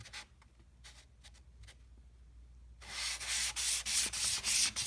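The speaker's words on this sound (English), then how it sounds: "We're also just flattening out the stone." Sharpening stone being flattened on 500 grit silicon carbide: quiet light scraping strokes at first, then loud, steady rhythmic gritty rubbing strokes close up, with no voices.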